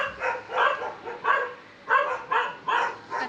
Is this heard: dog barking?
yes